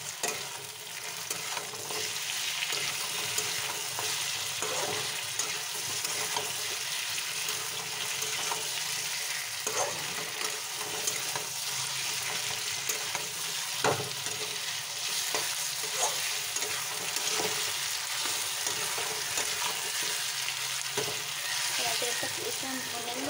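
Chicken fries with garlic paste, sizzling steadily in a hot pan, with occasional scraping and stirring clicks and no talking.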